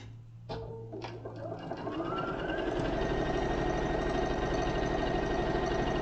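A sewing machine stitches pockets for a hanging car organiser, starting after a few clicks and building into a steady, continuous motor whir close by.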